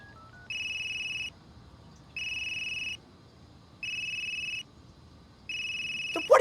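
A mobile phone ringtone plays as four clear electronic ringing bursts of about a second each, repeating at a steady rhythm with short gaps, fairly loud over a quiet room.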